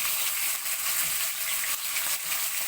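Meat sizzles and fries steadily in a hot pan with onion for an Egyptian beans-with-meat dish, a continuous close crackling hiss with no talking.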